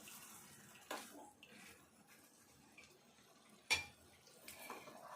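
Dried fish rinsed in a vessel of water, with quiet sloshing and splashing and a few sharper splashes as the pieces are stirred and lifted, close and fairly faint.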